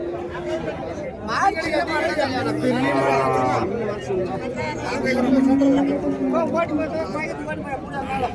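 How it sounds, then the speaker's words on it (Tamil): Native cows low and call amid the busy chatter of a crowd at a Friday cattle market in Uthangarai, several moos rising over people talking nearby. "இதெல்லாம் நாட்டு பசு மாடுங்க."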